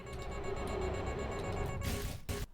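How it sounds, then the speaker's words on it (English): Glitched electronic beeps from the propulsion gel drill in Portal 2, a dense looping run of random synthetic notes that repeats steadily at a loud level, ending in a burst of noisy static near the end. "Where it just keeps repeating some of the random notes from the propulsion drill."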